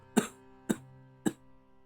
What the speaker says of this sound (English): Coughing noises.